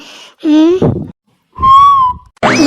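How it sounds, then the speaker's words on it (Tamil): Whistling inside a library, a few clear tonal bursts between bits of nearby talk, loud and close. "ஏன்டாவ லைப்ரரிக்குள்ள வந்து விசில் அடிக்கிறது"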